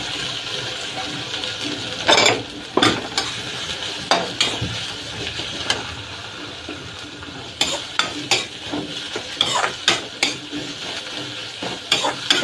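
Radish bhujia sizzles in a pan while a spoon scrapes and stirs it, with irregular clattering knocks against the metal over a steady frying hiss, close and with no talking.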